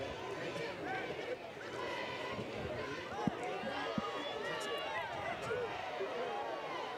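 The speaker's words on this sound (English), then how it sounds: "Crowd getting a little restless." A restless crowd at a high school football game, Fayette County at Gordo, a busy murmur of chatter and scattered shouts from the stands, with a couple of sharp knocks, steady and fairly distant.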